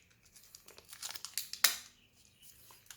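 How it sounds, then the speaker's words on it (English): Stickers being peeled off a COROX nylon watch band make a close, irregular crinkling and tearing, with one sharp louder rip in the middle before quieter rustles. "You have to like take out the stickers."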